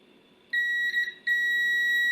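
A multimeter sounds two steady continuity beeps while its probes test the blue, white and black wires of a motorcycle switch, each tone loud and sustained, separated by a brief gap.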